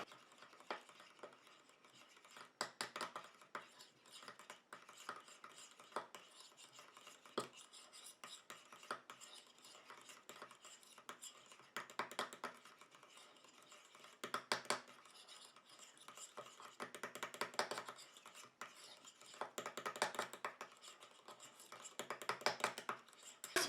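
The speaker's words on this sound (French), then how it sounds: "Et je viens mélanger." Carrot cream for a cosmetic glow recipe is stirred in a bowl, making soft repeated bursts of scraping and swishing with quiet gaps between strokes.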